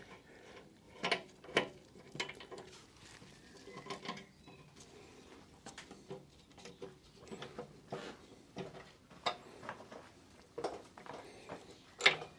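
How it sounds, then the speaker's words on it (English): A ratchet tightens the fender bolts on a Harley-Davidson Road King Police motorcycle, with repeated short clicking bursts and light metallic taps at an irregular pace, close by and fairly quiet. "I'll just secure the fender bolts to make sure that gravity is not striking again"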